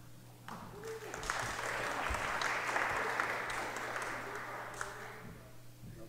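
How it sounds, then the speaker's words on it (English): Congregation applauding at a Sunday gathering as a reader comes up, clapping swelling then fading over a low steady hum, fairly distant and moderate. "Applauding before I start."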